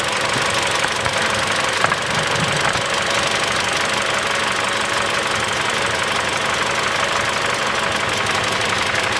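A Mitsubishi ASX 1.8 engine idles roughly with its first cylinder not firing properly and the injector for that cylinder removed, a steady, near mechanical running with an uneven knocking beat and no talk.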